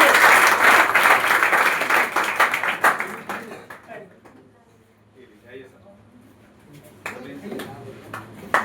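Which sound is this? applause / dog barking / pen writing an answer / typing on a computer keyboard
applause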